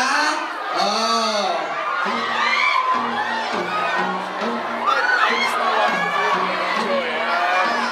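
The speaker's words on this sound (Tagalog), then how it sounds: "Sobrang lakas ng sigawan dito!" Fans at a film premiere night screaming and shrieking loudly, with high rising squeals and a continuous crowd roar, while voices talk through the noise.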